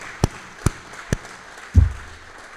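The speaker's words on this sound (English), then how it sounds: "So a round of applause" Several sharp isolated claps ring out at a business forum, three spaced hand claps followed by a duller thump, fairly close in a quiet room.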